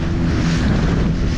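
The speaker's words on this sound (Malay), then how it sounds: "angin kuat" Strong wind at sea buffets a fishing boat, a loud, steady roar of wind and water rush close to the microphone with no pause.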